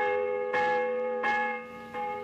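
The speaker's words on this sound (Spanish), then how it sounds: "¡Uy, campanas! Parecen campanas." Church bells ring in three slow, resonant strikes, each one lingering with a long humming decay, heard clearly with no voices.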